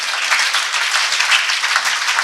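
A church congregation claps and cheers at a service, a steady, dense wash of applause that holds at an even level throughout, with no clear speech.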